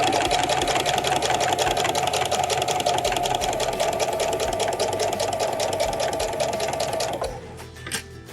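Close and loud, a sewing machine runs a fancy embroidery stitch across the top of a tote bag, a steady rapid needle chatter that carries for about seven seconds before slowing and stopping.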